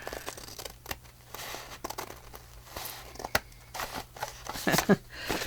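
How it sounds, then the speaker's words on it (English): Scissors snip through paper for a handmade coffee and chocolate journal, quiet scattered cuts and crinkles heard up close, ending in a louder rustle of paper. "I'm just going to cut it."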